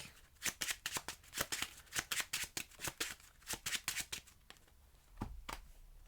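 Cards shuffled back into the deck in a digital card game: a rapid run of crisp riffling ticks and flutters lasting several seconds, near and clear, tapering off into a few final snaps.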